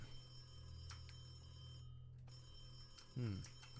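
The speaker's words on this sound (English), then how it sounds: "The phone is ringing." A telephone rings in The Creepy Syndrome PC horror game, a few thin electronic rings over a low steady hum, followed by a brief louder low burst near the end.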